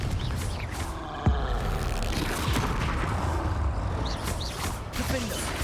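Hogwarts Legacy's Confringo spell goes off as an explosive blast in the game. A dense, rumbling roar of effects continues steadily under the play, with one sharper hit partway through, and a voice speaks briefly over it.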